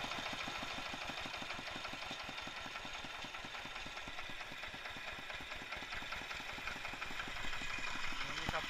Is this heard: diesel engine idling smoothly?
yes